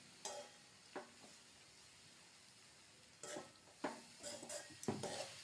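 Grated coconut, salt and asafoetida are stirred into flattened rice dough in a pot for aval kozhukattai, heard as soft, scattered scraping strokes of a spoon against the vessel.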